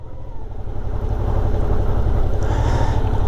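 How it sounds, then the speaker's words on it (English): A beginner's motorcycle rolling along in second gear, with a low, steady engine rumble building slightly and mixed with wind buffeting on the microphone. "we are now moving along in second, and the bike will be moving quicker now."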